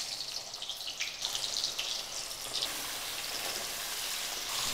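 Shaur fish and potatoes sizzle steadily in hot oil in a village kitchen, a close, bright, continuous crackle and hiss with small bursts of spattering throughout.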